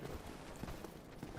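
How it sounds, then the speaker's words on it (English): Footsteps in the Dark Souls video game, a steady series of soft thuds under low game ambience, fairly quiet and near, with some faint background noise throughout. "I hear footsteps."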